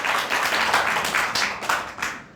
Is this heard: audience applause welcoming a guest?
yes